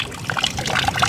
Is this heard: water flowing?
yes